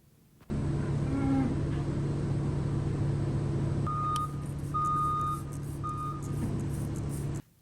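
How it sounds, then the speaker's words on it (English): A farm feed truck idles with a steady, loud diesel rumble, then sounds its reversing alarm, a series of evenly spaced beeps repeating over the engine noise. "No, that's not the UPS guy pulling in your driveway. That's the feed truck on this farm."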